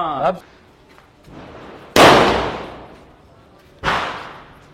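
Diwali firecrackers go off in two sharp, loud bangs a couple of seconds apart, each trailing into a decaying rumble, with a brief voice and faint background noise between.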